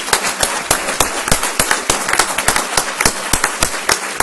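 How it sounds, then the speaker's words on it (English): Loud, close audience applause for a panel of speakers, with sharp, rapid claps forming a dense, rhythmic patter. "So I really want to give a round of applause to our panelists."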